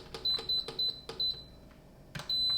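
A series of sharp, high electronic beeps, several short ones in an irregular rhythm followed by a longer tone, close and clear with no talking.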